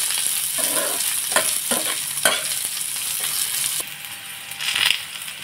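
Okra pieces stir-fried in a pan for a masala dish: a steady sizzle with scraping stirs and clatters of the spatula throughout, fairly close and loud, with no talking.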